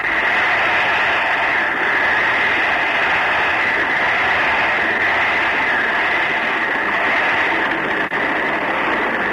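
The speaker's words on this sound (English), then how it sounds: "That sound you hear is a tremendous waterspout" A steady, dense roar of broadband rushing noise, an old radio-drama sound effect of a waterspout, holds constant throughout, like a loud wind-and-water effect with no talk.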